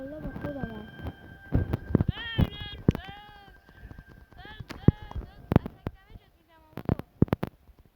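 Sheep bleat in the Minecraft video game, several short wavering calls scattered among footstep clicks and game sounds, loud and close, with no talking over them.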